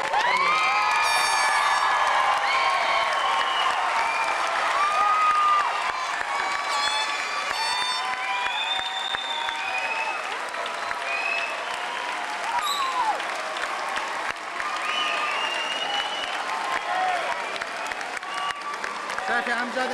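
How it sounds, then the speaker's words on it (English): An audience at a graduation ceremony applauds and cheers the graduates, dense continuous clapping with scattered whoops and shouts that stays loud for the whole stretch. "I want the audience to give them a round of applause."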